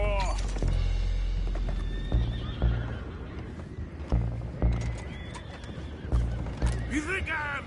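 Horses neigh and whinny with hooves clip-clopping in a Red Dead Redemption 2 game scene, several loud calls rising over a steady rumble while voices talk throughout.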